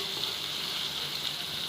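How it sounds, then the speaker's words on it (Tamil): Tomato, curry leaves and other brinjal thokku ingredients fry in a pan with a steady, dense, close hiss of sizzling oil that holds even throughout the short stretch, with no voices. "நல்லா ஃப்ரை ஆகட்டும் 2 மினிட்ஸ்க்கு"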